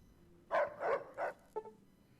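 Rex, a dog companion in Fallout: New Vegas, gives three quick barks followed by a shorter yip, close and clear against a quiet background.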